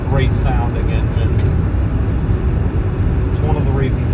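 A 2000 Ford F250 with a 7.3 Powerstroke diesel rumbles at a steady low idle nearby while a person talks over it.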